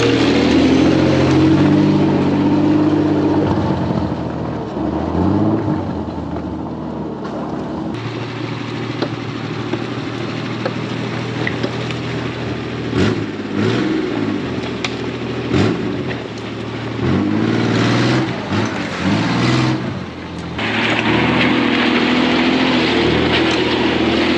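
An old GAZ 69 off-road vehicle fitted with a V6 engine drives with worn drum brakes. The engine drones loud and close, the pitch rising and falling as it changes speed, and a few knocks and rattles come through.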